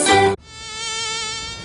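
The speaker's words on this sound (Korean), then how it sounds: "모기?" A near, steady, high-pitched mosquito whine in a Korean TV advert for a mosquito repellent, starting abruptly after a short burst of other sound and holding level and loud to the end.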